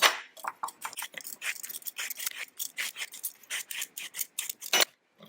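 A turnip being peeled, rapid close scraping and rasping strokes in a steady rhythm, loud and alone, ending with a brief pause.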